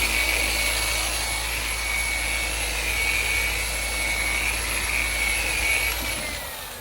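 Dry sanding older, shrunken boat gelcoat with 600 grit sandpaper produces a steady, continuous hissing rasp that runs evenly and close throughout, easing off slightly at the very end.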